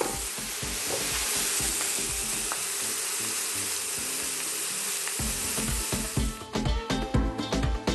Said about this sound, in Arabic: حارة على مود لما ننزل اللحم تطلع هاي الصوت